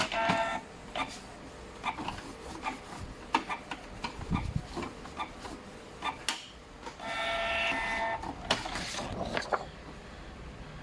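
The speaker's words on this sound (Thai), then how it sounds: "จากนั้นเครื่องจะทำการเทสหัวพิมพ์ออกมาดูนะครับผม" A secondhand inkjet printer prints a nozzle check test page after a reset, with repeated mechanical clicks and ticks, a whirring carriage sweep, and print-head passes, close and steady.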